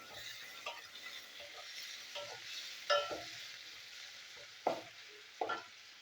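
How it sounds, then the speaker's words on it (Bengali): Chopped onions with salt fry in oil for a chicken curry, a low continuous sizzle broken by several sharp spoon scrapes and clanks against the pan as they are stirred. "তবে পেঁয়াজটা আমি ভেজে নেবো, একটু লাল করে ভাজতে হবে।"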